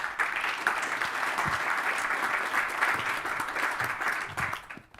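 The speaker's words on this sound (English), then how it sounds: "please give my panelists here a round of applause" A conference audience in Miami applauds panelists after a transport and mobility panel discussion, a dense round of clapping that holds steady and then tapers off at the end.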